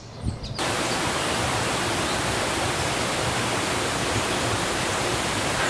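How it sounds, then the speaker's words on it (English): Racebrook Falls spilling down the eastern slope of Mount Everett in Massachusetts, a dense, steady rushing roar of falling water that cuts in after a brief moment and holds loud and unbroken throughout. "Racing down the eastern slope of Mount Everett behind me is Racebrook Falls."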